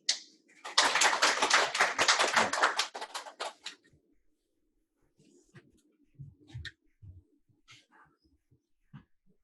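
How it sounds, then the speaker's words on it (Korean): Audience applause at a manufacturing 3D-printing workshop, a dense burst of clapping lasting about three seconds that then stops abruptly, leaving near silence with a few faint, scattered knocks and shuffles. "박수는 크게 쳐주시면 더 좋아요."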